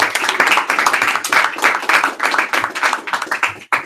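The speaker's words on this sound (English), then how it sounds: "Round of applause for Cheyenne." Audience applause for Cheyenne at a general session, a dense burst of many hands clapping at close range, holding steady for several seconds before breaking off near the end.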